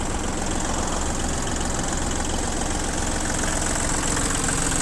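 An ISEKI TU275 compact tractor's small diesel engine idles steadily nearby, a constant low rumble with mechanical clatter and no other sounds.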